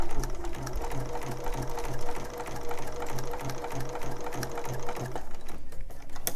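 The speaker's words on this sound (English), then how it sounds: "we're just going to sew directly on that line" Sewing machine stitching quilt pieces along a marked line, a steady fast rhythmic whirring and clatter running continuously and close, with no voices.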